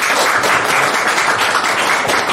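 Applause at a meeting of the Ansan disability culture association in Gyeonggi-do, a loud, dense burst of clapping from the gathered attendees throughout.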